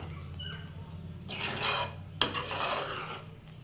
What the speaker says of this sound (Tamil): பொறுமையாக சிம்மில் வச்சு கலக்கணும்